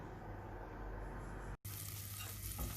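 Butter melting in a pan before dry fruits go in for sheer khurma, a faint, even sizzling hiss that cuts out for an instant and then continues.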